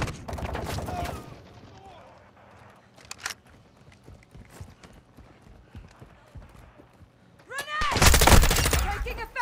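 Gunfire in Call of Duty: Modern Warfare II DMZ opens with a loud burst, scattered lighter shots and clatter follow, then a heavy, close volley erupts near the end.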